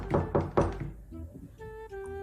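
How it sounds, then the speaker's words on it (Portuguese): Three loud thuds of knocking on a door sound close by in quick succession, followed by quiet and then a soft, sustained tonal ring. "Tá chamando lá na porta, tá batendo na porta."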